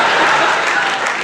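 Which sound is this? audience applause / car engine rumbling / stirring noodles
audience applause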